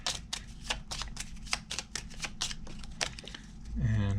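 Playing cards being shuffled during a tabletop card game session, a run of rapid riffling flutters and snaps close by, ending with a brief low hum.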